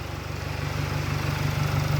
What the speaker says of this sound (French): Voilà, le moteur, il tourne.